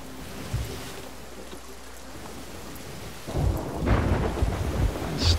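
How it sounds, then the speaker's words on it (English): Rumbling thunder and steady rain from a thunderstorm at sea in the pirate game Sea of Thieves, a low roll building into a louder, denser downpour with crashing storm noise in the second half, no voices. "The storm's keeping us from getting to the outpost."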